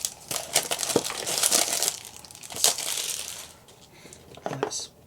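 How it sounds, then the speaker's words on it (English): Plastic wrap being peeled and crinkled off a boxed Google Chromecast (3rd generation), loud close crackling and tearing bursts in an irregular rhythm throughout. "let's see if I can peel this plastic off."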